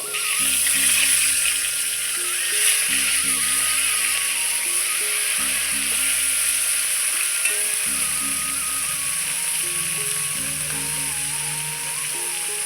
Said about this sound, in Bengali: এবার মাছের মাথাটা আমি কড়াইতে ছেড়ে দিচ্ছি মাছের মাথাটা লাল লাল করে আমি ভেজে নেব